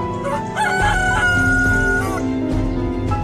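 Roosters crow loudly and repeatedly, overlapping calls with some clucking mixed in, close by.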